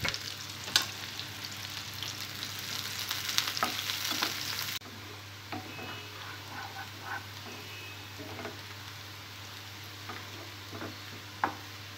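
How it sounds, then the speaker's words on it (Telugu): Onions and green chillies fry in hot oil for a masala prawn fry, giving a steady close sizzle with scattered crackles and stirring clicks, louder for the first five seconds, then softer. "ఆయిల్ వేడైన తర్వాత ఉల్లిపాయ ముక్కలు,"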